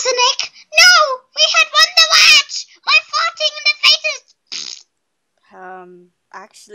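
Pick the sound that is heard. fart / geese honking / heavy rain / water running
fart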